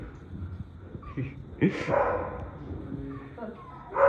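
A dog barks and yips a few times nearby, mixed in with people talking.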